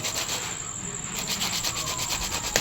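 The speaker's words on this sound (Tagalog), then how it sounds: "Liha lang natin para didikit siya sa PVC." Sandpaper rubbed against PVC pipe to roughen it for gluing during a DIY side camera build, a steady rhythmic scraping close by with no talk.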